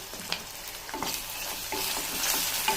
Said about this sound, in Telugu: ఆనియన్స్ కొంచెం రెడ్ కలర్ వచ్చేంత వరకు వేపుకోండి